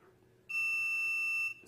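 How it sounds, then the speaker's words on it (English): A pisonet coin-operated computer rental station gives its time-ending warning: one steady, shrill electronic beep lasting about a second, loud and alone against faint room noise. "it's alarm that it's informing you that your time will be ended soon"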